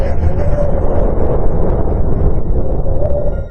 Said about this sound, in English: Then there's the business of Mars.